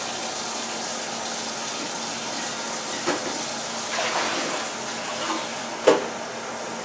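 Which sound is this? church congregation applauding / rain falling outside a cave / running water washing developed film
running water washing developed film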